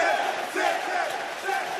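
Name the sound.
applause from football stadium crowd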